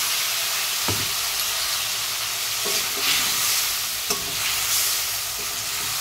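Ginger, cumin and chili paste with tomato sizzles steadily in a hot pan, a bright frying hiss throughout with a few soft scraping stirs of a spatula at intervals.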